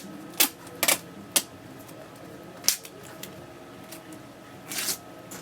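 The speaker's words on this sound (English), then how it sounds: "we're going to turn it over and tape the other side, the other half of the duct tape." Duct tape is pressed and smoothed onto a fin of a homemade sparkler rocket, with several sharp crackles and taps spaced irregularly, fairly close, then a brief rustle near the end.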